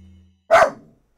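A dog barks once in Resident Evil 4, a single loud, close bark that fades quickly, with quiet game ambience before it and near silence after.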